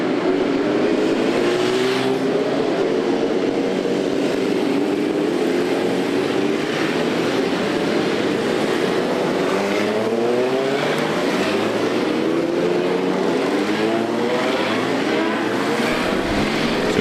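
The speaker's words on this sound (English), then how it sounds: "bikes are leaving the holding area" Superbikes revving as they leave the holding area at Knockhill during a 2013 race meeting, a dense, continuous wash of rising and falling engine notes at a moderate distance with no break.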